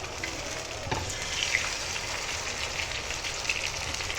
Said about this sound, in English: Put a fish on tawa.